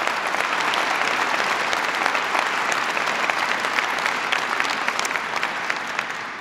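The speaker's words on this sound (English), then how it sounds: "Please give Max Baucus of Montana a big round of applause." Sustained, dense audience applause fills a ceremony hall at the February 2009 presidential signing of the Recovery Act, steady and loud throughout with many hands clapping at once and no speech over it.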